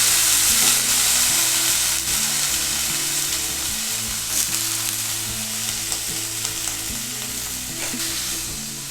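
Steady sizzling of chopped banana stem frying in a pan, with occasional scraping and stirring sounds, close and fairly loud throughout.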